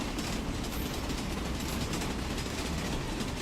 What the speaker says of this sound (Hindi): बड़ी तेज चलती है आपकी लोकल ट्रेन।